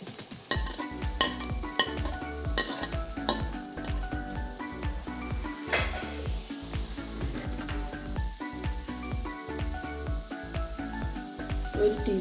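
Ground coconut paste going into a clam stir-fry in a pan, with a busy stream of scraping and stirring strokes over a low sizzle, the clatter repeating irregularly throughout at close range and no voice.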